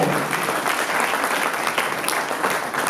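A studio audience at a television show applauds, giving three seconds of dense, even clapping at close range.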